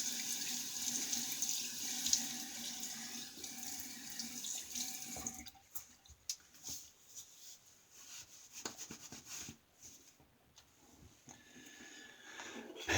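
Tap water running into a sink during a wet shave with a vintage Gillette President razor and Burma Shave brushless cream: a steady close splashing stream for about five seconds, then quieter dripping and rinsing sounds.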